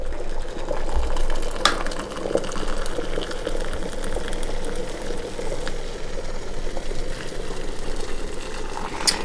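Hot water being poured for tea, a steady, continuous liquid rush with a low bubbling undertone that runs evenly throughout, fairly close and with no talking.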